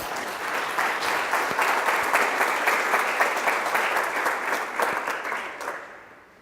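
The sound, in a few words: applause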